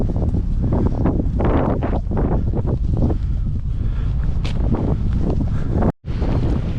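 Strong, freezing easterly wind buffets a GoPro microphone on an outdoor walk along the Calderdale Way, a loud continuous roar with gusty surges that cuts out briefly near the end.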